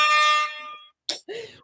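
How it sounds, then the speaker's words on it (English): A handheld blowhorn blasts a single sustained, harmonically rich tone for just under a second. It is followed by brief voices. "it's a blowhorn and it makes that sound when you push the button."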